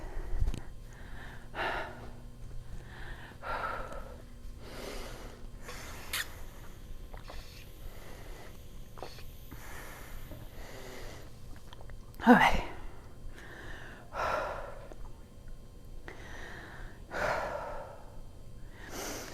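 Person catching their breath during a break between workout rounds: repeated heavy breaths and gasps at an irregular pace, close to the microphone, with a few brief spoken words.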